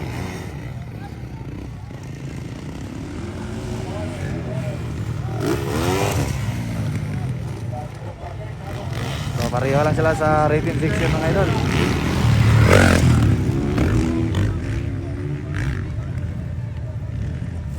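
Racing motorcycle engines roar and rev at a Pro Open final motocross heat in San Fernando, Bukidnon, rising and falling in pitch in repeated surges, with crowd noise and an excited commentator talking over them throughout.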